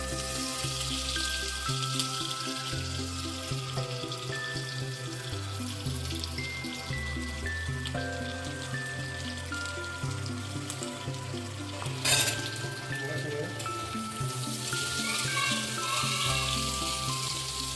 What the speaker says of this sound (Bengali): এবার পেঁয়াজগুলো দিয়ে পেঁয়াজগুলো খানিকক্ষণ নাড়াচাড়া করে নেব।